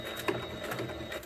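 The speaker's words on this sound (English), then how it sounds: "I'm going to do just maybe 2 or 3 back stitches." A sewing machine back stitching a patch onto fabric runs in a quiet, brief burst of rapid mechanical ticking with a soft rhythmic patter, heard alone and close.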